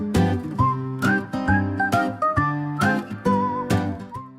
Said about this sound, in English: I especially loved the shop theme with its whistling.